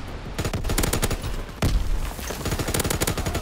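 A machine gun turret rattles in Call of Duty WW2, rapid continuous bursts of automatic fire up close and loud, broken briefly by a heavier blast midway.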